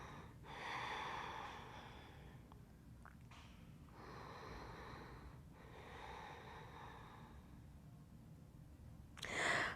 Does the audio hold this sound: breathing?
yes